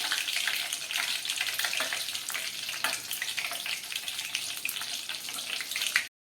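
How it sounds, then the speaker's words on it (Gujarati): Curry leaves crackle and sizzle in smoking-hot oil for a snack of tempered sev mamra, a dense steady frying hiss, close and loud, that cuts off abruptly at the end. "આ પ્રોસેસ આપણે ધુમાડા નીકળતા તેલમાં જ કરવાની છે એટલે એકદમ સરસ રીતે ફ્રાય થઈ જાય."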